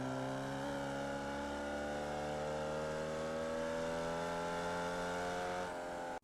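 A Formula Vee race car engine in iRacing holds a steady, buzzing high-revving drone that climbs slowly in pitch as it accelerates. It sounds loud and continuous, then cuts off abruptly at the end.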